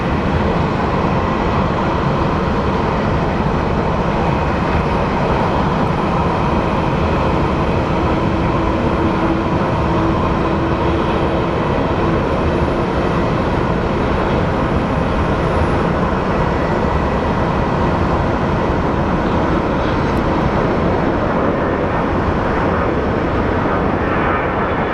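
Breeze Airlines Airbus A220 jet airliner arriving at Phoenix Sky Harbor, a steady broad roar of jet engine noise sustained throughout, fairly loud and without talk.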